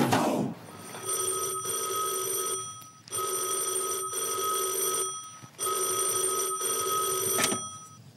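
A telephone rings in three long electronic bursts with short pauses between them, loud and close, with no talking.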